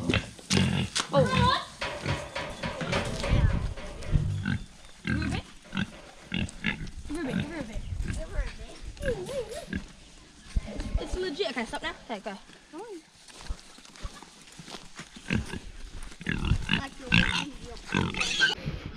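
Pigs grunt and oink close by in a farm setting, a busy run of snorts and squeals mixed with people talking over them throughout.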